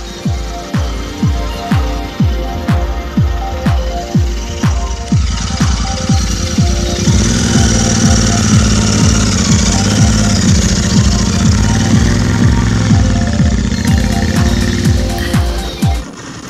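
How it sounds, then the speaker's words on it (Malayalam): A Royal Enfield Interceptor 650 motorcycle fires up and runs with a steady, loud throbbing twin-cylinder pulse, then rises in pitch and pulls away as it gets under way on the road. "നമുക്ക് ഇനി ഒന്ന് ജസ്റ്റ് ഒന്ന് റോഡിലേക്ക് എടുത്തു നോക്കാം സ്റ്റാർട്ട് ചെയ്തിട്ട് ഒന്ന് ഓടിച്ചു നോക്കാം"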